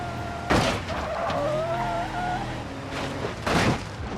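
A car in a video game drifts, tires squealing in a wavering high screech over a revving engine, with bursts of noise at the start and end of the slide.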